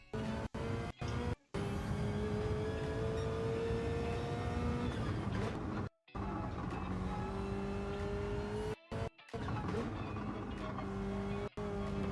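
A turbocharged race car in Gran Turismo 7 revs loudly and continuously through gear changes, its engine note rising and falling with brief cuts, as tires squeal under braking throughout.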